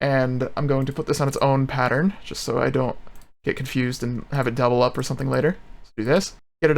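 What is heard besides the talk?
No everyday noise stands out behind the speech.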